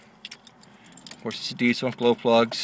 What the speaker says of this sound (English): Grab the key here.